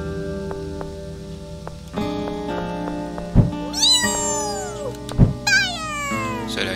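Cat meowing in a video game, two drawn-out meows with a rising and falling pitch over a steady game background hum, punctuated by a couple of thumps.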